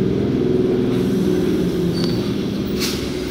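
Up Howrah-Bandel local train entering a station, a steady low rumble of wheels and carriages close by, a brief squeal of wheels and a short hiss near the end.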